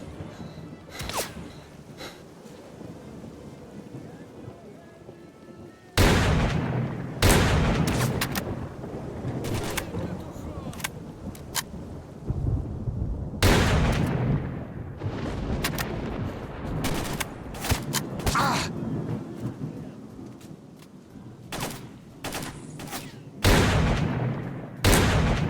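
Gunfire rings out in a Monolith game, with loud bursts of shots and rapid volleys coming in several separate clusters between quieter stretches of ambient noise.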